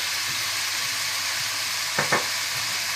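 Chicken cooking in a pan for spring rolls gives a soft, steady sizzle with a couple of brief stirring scrapes near the end; fairly quiet, no voices.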